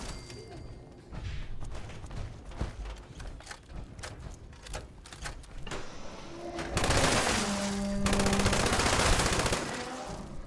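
TSE LMG machine gun firing in Fallout 76, long rapid bursts of automatic fire with staccato bullet cracks, growing into a dense sustained burst toward the end, with faint game sounds in between.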